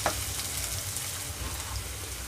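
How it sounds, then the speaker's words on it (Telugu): Ginger garlic paste frying with onions in a pan, a steady, even sizzle that holds close and constant throughout with no talk. "ఒక 2 నిమిషాల పాటు పచ్చివాసన పోయేంతవరకు వేగనిద్దాం."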